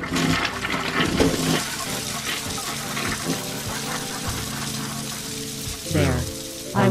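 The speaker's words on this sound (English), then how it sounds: "flush the toilet" A toilet flushes in an animated short, a gushing swirl of water mixed with tonal, voice-like layers, ending with a brief renewed surge near the close.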